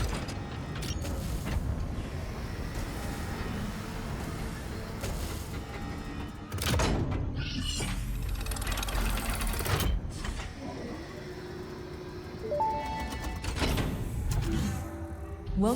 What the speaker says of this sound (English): We are ready with this bean, apparently, to send off the space elevator